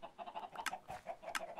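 Chickens cluck in the video game Minecraft, a quick series of soft, rhythmic clucks with a couple of sharper squawks, faint and with no talking.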